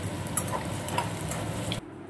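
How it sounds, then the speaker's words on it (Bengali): Onions half-frying in a pan give a soft, steady sizzle with a few faint stirring clicks, cut off abruptly near the end. "পেঁয়াজ ভাজছি।"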